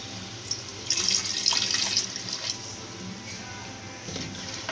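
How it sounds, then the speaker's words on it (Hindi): Half a glass of water pours into simmering aloo gosht meat curry, a steady close splashing and gurgling stream with some sizzling underneath, swelling briefly then continuing softly. "अब इसमें तकरीबन आधा गिलास के करीब पानी डालूंगी।"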